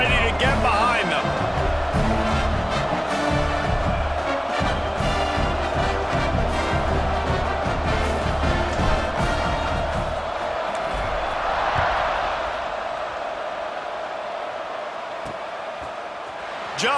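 In the College Football 26 video game, a stadium crowd roars and cheers continuously as a team gets set to kick off, while a commentator talks over the dense, steady wash of noise.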